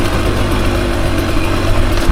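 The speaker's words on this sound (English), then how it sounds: "Little engine braking right there." A Beta 300 RR two-stroke dirt bike engine burbles and drones steadily while engine braking on a tight wooded single track, loud and close with no one speaking.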